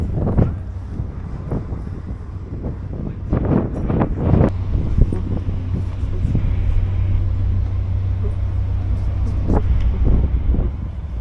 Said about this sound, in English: So it's so windy up here.